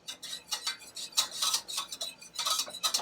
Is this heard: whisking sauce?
yes